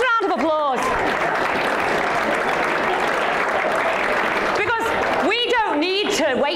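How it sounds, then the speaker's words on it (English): A roomful of people claps in sustained, dense applause at a social gathering, loud and continuous for several seconds, with a person talking briefly before and after it. "give yourselves a round of applause"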